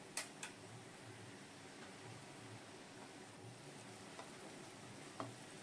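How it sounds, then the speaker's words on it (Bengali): Butter sizzling in a frying pan, heard as a faint, steady low crackle of frying with a few soft ticks scattered through it. "এবার আমি ফ্রাই প্যানে আবার 1 চামচ বাটার দিয়ে দিলাম।"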